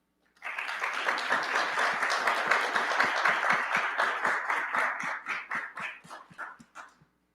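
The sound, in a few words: audience applause for a conference speaker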